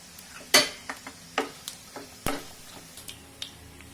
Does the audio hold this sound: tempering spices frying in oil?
yes